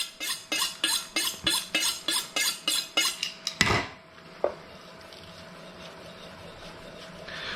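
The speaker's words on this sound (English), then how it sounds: "When I slice scallions for garlic, I do what's called a back slice." A knife slices scallions for garnish on a cutting board, about a dozen quick, evenly spaced taps that stop, followed by a louder knock and a quiet room.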